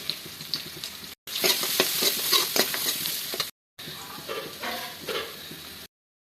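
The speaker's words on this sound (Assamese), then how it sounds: "এয়া নহৰু পিঁয়াজতে দি দিছোঁ মই হালধি" Onion and garlic with turmeric fry in a pan for a methi vegetable dish, giving a steady broadband sizzle with scraping stir strokes and clinks. The sound breaks off twice briefly, with no talking.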